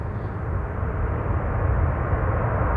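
An airliner's thrust reversers roar during landing at Amsterdam Schiphol, a loud, continuous broadband rumble heavy in the low end that holds steady from start to finish.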